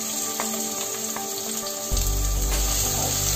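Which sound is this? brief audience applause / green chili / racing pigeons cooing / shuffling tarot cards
green chili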